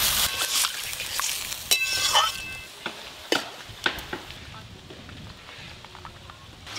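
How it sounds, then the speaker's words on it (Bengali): Water poured into a hot pan of lightly fried potatoes and radish gives a sharp hissing sizzle with a few loud bursts, then settles into a quieter, crackling simmer with scattered pops. "আলু মূলো হালকা করে ভেজে নিয়েছি, এবার একটু জল ঢেলে সেদ্ধ করে নেব।"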